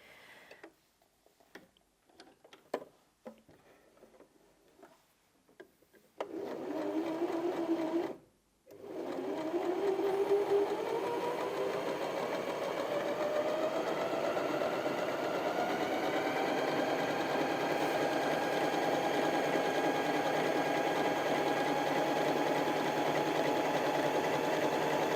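A Janome HD2200 sewing machine runs a stretch stitch, starting after a few soft clicks and handling sounds, then settling into a steady, fast mechanical whir with a rising pitch as it speeds up, close and continuous.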